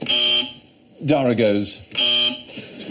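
A bright electronic buzzer tone sounds twice, each lasting about half a second, with someone speaking briefly between them.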